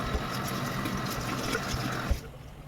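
Kitchen sink being washed under a running tap, a steady close splash and flow of water that cuts off near the end.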